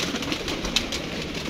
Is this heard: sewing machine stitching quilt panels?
no